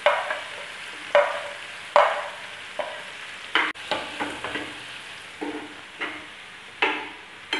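Tomatoes fry in a pan for Ratlami sev tamatar curry, a soft sizzle broken by regular scraping stirs of a spoon against the pan.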